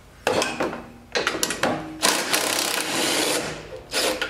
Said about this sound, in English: I need my impact with a long extension and a half inch on there